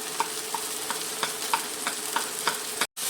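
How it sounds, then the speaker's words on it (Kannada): Garlic and ginger, joined by turmeric for dal fry, sizzle in a pan, a steady close crackle with regular scraping stirs about twice a second, ending abruptly. "ಇವಾಗ ಇದನ್ನು ಸ್ವಲ್ಪ ಫ್ರೈ ಮಾಡ್ಕೊಳ್ಳೋಣ."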